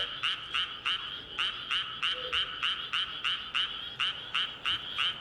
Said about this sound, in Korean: 우리 아까 많이 들었던 개구리 소리가 많이 들리고 있어요.